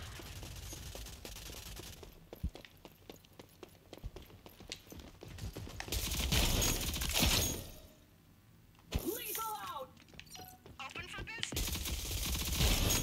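Bursts of gunfire in the shooter game Rogue Company, with rapid shots and sharp impacts coming in uneven waves, some stretches loud and dense and others sparser, and a player voice talking intermittently in between.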